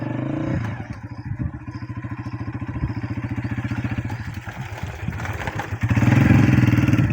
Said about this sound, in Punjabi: ਮੋਟਰਸਾਈਕਲ ਲੈ ਕੇ ਸੜਕ 'ਤੇ ਮੰਮਾ ਦੀ ਜਾਨ ਆ ਗਿਆ ਹੈ